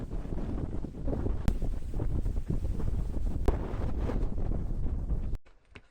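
Strong, steady wind buffets the microphone during an outdoor run on a coastal skyrunning trail, a loud broadband roar that holds for about five seconds before cutting off abruptly.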